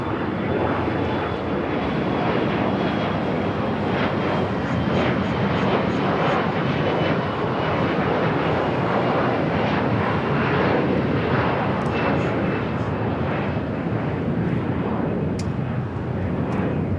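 A Cathay Pacific Boeing 787-9 Dreamliner airliner at LAX gives a steady, loud roar of jet engines that holds evenly without pause throughout, with no talk heard over it.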